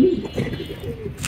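Racing pigeons coo in a racing pigeon loft, with a soft, low throaty burst up close followed by faint murmurs, and a voice talking underneath.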